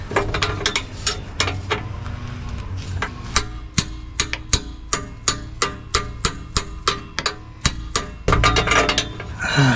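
Repeated metal tapping on a rusted oxygen sensor on a Jeep TJ, a series of sharp, close clinks and knocks in irregular rhythm, with busier clusters of hits near the start and end.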